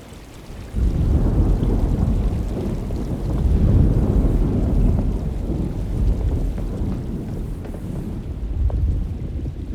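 Heavy storm ambience from the video game Alone in the Dark: steady dense rain and wind roar with low rumbling thunder swelling and fading, loud and continuous for about ten seconds.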